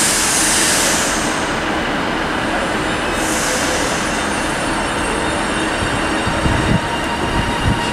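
TransPennine Express service departing Carlisle station on the West Coast Main Line, a steady low rumble of the train pulling out with rising hiss and brief wheel noise, continuous and fairly close with no talk.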